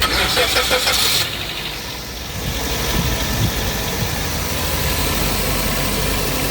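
A cold 1.6-litre 2015 Suzuki Vitara with an automatic gearbox cranks and catches, settling into a steady close idle with a muffled rumble, and a person talks briefly over it.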